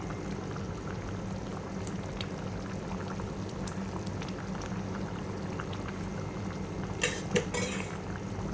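Salmon fish head curry simmering in a pot, giving off a steady, soft bubbling hiss with a few faint clinks near the end.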